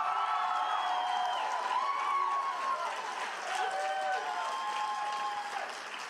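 A rally crowd at an Iowa caucus Trump event cheers and applauds loudly in a steady, dense roar, with raised voices and shouts woven through the clapping for several seconds before it eases slightly.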